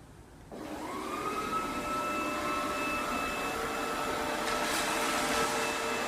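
An ECOVACS DEEBOT M80 Pro robot vacuum starts up in auto mode and runs steadily while picking up crumbs, a close, constant whirring drone with a faint high motor whine and no talking.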